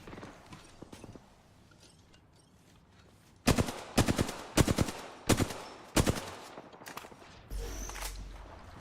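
Rapid bursts of gunfire from a battle-royale video game, several loud volleys crackling in quick succession over a quieter backdrop, with a low rumbling noise near the end.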